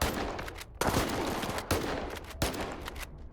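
Gunfire in the video game STALKER 2: a handful of sharp, loud shots at uneven intervals, each with a short decaying tail, with no talk.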